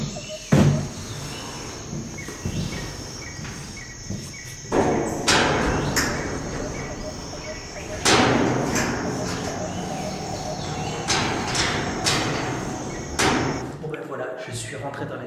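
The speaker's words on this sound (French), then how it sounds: "Je suis rentré dans la cuve. Il y a un son de cathédrale" Climbing inside a large industrial vat with a reverberant, cathedral-like interior: several loud, echoing thumps and bangs ring out irregularly over a steady background hum and faint high whine.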